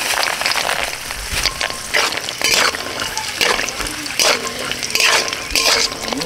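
Cashews, raisins and almonds fry in hot oil in a pan with a loud, continuous sizzle. Stirring bursts come in an irregular rhythm, close and dominant throughout.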